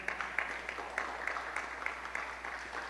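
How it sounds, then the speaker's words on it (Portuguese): Congregation applauding during a Catholic-style preaching event at a Christian carnival gathering, moderately distant, steady clapping with a loose rhythmic pulse, no talk over it. "Vamos aplaudir a palavra."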